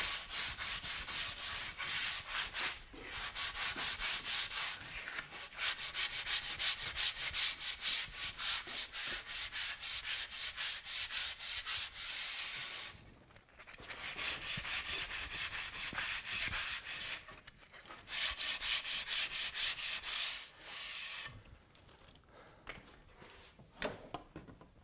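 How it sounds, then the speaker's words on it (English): Coarse 80 grit sandpaper rubbed by hand over a maple board being shaped into a primitive longbow, rounding its corners: steady rhythmic scratchy strokes, close and fairly loud, with a few brief pauses between runs. "So I've just got some 80 grit sandpaper here. I'm going to use this to kind of round those corners off a little better."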